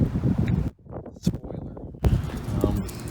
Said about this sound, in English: You know, it's just crazy windy out.